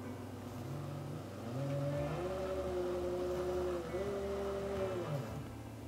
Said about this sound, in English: The motor is a third of a horsepower and it rotates up to 222 revolutions per minute